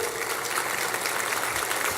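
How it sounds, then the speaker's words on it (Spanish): Congregation clapping in a church, a dense and steady wash of applause from many hands with no pauses or voices standing out. "¿Por qué no le das un aplauso al Señor?"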